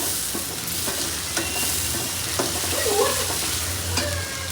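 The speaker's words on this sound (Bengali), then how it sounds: "পেঁয়াজ কুচি দিয়ে দিলাম" Chopped onions frying in a pan for hilsa fish curry, a continuous close sizzle with occasional stirring scrapes and taps, fairly loud, with no talking.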